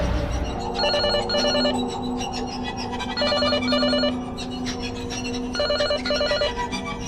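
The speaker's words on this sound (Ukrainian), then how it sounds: "почула дзвінок домофону." An apartment intercom buzzer rings in repeated paired bursts, three times over a steady low hum, moderately loud with no talking.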